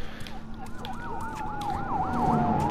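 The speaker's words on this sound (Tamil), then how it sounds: "என்னது போலீஸ் வண்டி?" A police siren in The Last of Us video game wails in a steady rising-and-falling pattern, growing louder over a constant low hum.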